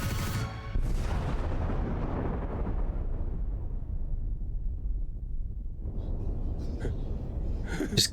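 A missile strike destroys Fort Merceus in Fire Emblem Three Houses, opening with a huge booming blast that rolls into a long, deep rumble and slowly fades, before fresh crackling debris and impacts rise near the end.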